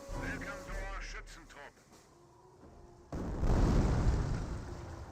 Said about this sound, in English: And senior mortar does connect with the ground